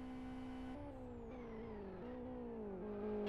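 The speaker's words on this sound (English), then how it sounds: "I think GT2 is okay, but GT3, especially the Aston, sounds as though it's got a bit of a misfire." Restricted Aston Martin GT3 race car engine in a Super GT round, a steady buzzing drone with stepped pitch shifts between gears that sound rough and slightly misfiring, heard from a distance without talk.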